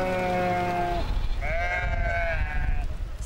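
Sheep in a flock heading up to mountain pastures bleat loudly and close by, several overlapping calls in succession over a low rumbling outdoor background.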